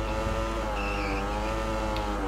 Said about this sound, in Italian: Adesso toglieremo 3 marce, perché questa curva è da terza o da seconda